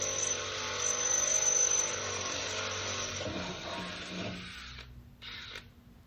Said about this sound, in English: I'm enlarging the holes, and then I will be mounting this bracket.